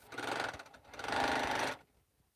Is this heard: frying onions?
no